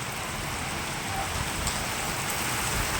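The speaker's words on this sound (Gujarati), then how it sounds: "વાવાઝોડા સાથે વરસાદ પડી રહ્યો છે." A steady downpour of heavy rain hisses loudly and evenly in Vadnagar, Gujarat, with a faint gusty rush of strong wind underneath and no pauses.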